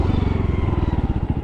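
A 2023 Honda 125 Monkey motorcycle's small single-cylinder engine chugs at low revs in a close, steady, even pulsing beat as it rides slowly through a tight turn, with no voices.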